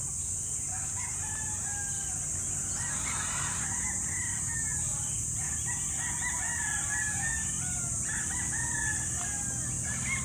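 Tethered gamecock broodcocks crow and cluck at a fowl yard, the calls repeating at mid distance over a steady high insect-like hiss and low background rumble, with no talk.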